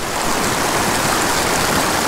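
A creek holding brook trout rushes past as a loud, dense, steady wash of flowing water, close by and unbroken, with no voices.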